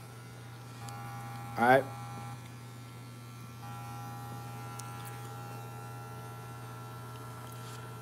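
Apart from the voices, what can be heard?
Gold FX hair trimmer buzzing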